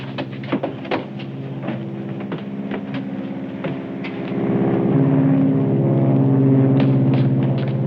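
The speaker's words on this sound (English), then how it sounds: "Listen. An aeroplane." A droning aeroplane engine circling overhead hums steadily and grows louder partway through, with faint clicks and knocks scattered over the top.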